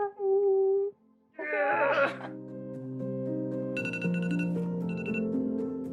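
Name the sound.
alarm ringing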